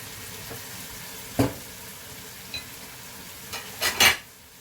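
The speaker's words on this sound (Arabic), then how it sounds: "دابا غادي نحركو ونخليو هادشي يتقلى لينا مزيان حتى الدجاج يشرب هاد العطريه هادي كامله" Chicken thighs with seven spices fry quietly in a pot under a faint sizzle, broken by a few scraping stirs and a louder clattering stir near the end.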